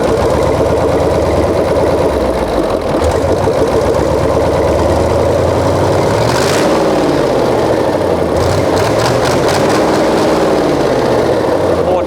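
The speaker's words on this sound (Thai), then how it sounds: "เป็นเครื่องยนต์ที่เสียงดุดันที่สุดแล้วนะครับ" A Hino F20C 380-horsepower V8 marine diesel engine idles loudly and steadily, a constant deep rumble with a rapid knocking chug throughout.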